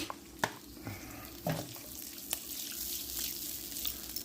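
Red Thai curry with coconut milk cooking down in a pan, a steady low sizzle and bubbling punctuated by a few scrapes of a wooden spoon, moderately close with no voices.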